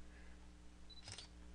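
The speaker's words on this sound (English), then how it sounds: "I can also press the shutter button on the camera" A camera's shutter button is pressed once, giving a single quick mechanical click and clatter of a single-lens reflex camera during a timelapse session, short and clear over a faint steady background hum.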